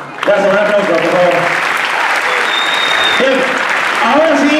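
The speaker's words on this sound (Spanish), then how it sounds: "Gracias, un aplauso, por favor." Audience applause at a choreographic dance show, loud continuous clapping filling the room while someone talks over it.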